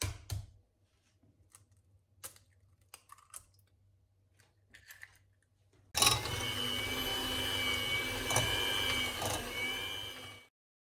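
An electric mixer whirs steadily as eggs are beaten one at a time into choux pastry dough for homemade profiteroles, starting abruptly after a few quiet taps and clicks and running loud and close for several seconds.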